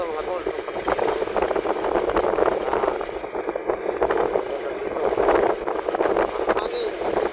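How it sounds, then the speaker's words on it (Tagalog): Wind buffeting the microphone during a motorcycle ride on a road in Ternate, Cavite, a continuous loud rushing roar that fills the whole stretch, with a voice faintly heard beneath it. "Hangin."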